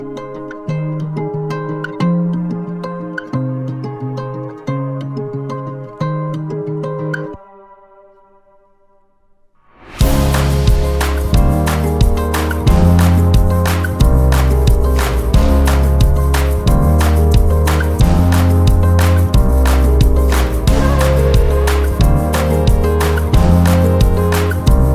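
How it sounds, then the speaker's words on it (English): Pitched-up guitar sample from Splice in FL Studio: a bright plucked melodic loop plays alone, drops away for a couple of seconds, then returns loud inside a full beat with heavy bass and drums. "I pretty much just got a guitar from Splice, pitched it up, and then started to build on top of that."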